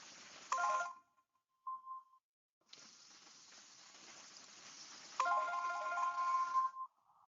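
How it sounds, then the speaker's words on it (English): A Microsoft Teams call ringtone chimes in short tonal bursts with gaps between, then rings in a longer, steadier stretch, clear and moderately loud with no talking. "I'm gonna just do a Teams call."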